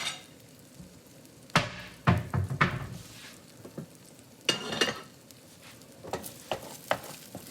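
Eggs frying in a pan, a steady soft sizzle with intermittent sharp knocks and scrapes of a utensil against the pan, close by and without speech.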